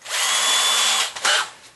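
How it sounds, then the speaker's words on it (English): A cordless drill spins a .223 brass case held in its chuck, a steady high whine for about a second, then a brief dip and a second short burst, close and loud with no talk. "chuck it in my cordless drill"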